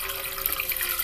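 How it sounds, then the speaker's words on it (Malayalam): Water pours into ground rice batter for palappam, a brief steady splashing stream heard up close with no voices. "1-2 ഗ്ലാസ് വെള്ളം കൂടെ ചേർത്ത് നന്നായിട്ടൊന്ന് കലക്കിയെടുക്കണം"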